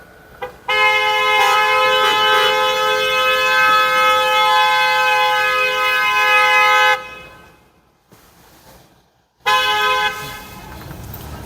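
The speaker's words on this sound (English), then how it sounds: "That's a lot of horn blowing for nothing." Car horns honking in heavy traffic as crowds leave a concert, sustained loud blaring for about six seconds, then a gap of near silence before another long horn blast starts up again.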